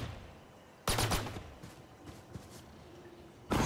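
Gunfire in the tactical shooter Valorant: a sharp burst of several rapid shots after a quiet stretch, a few scattered fainter cracks after it, then another loud burst at the very end.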